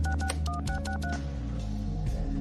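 A desk telephone is dialed, a quick run of distinct keypad tones in two bursts over a steady low hum, with no talking.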